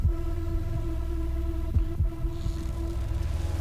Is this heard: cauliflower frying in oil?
no